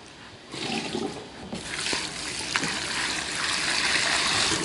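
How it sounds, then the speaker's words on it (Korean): A pot of water bubbles and rolls at a boil, with a splash as vinegar is added to the blanching water. The hiss grows fuller and steadier toward the end. "자, 물이 끓어요"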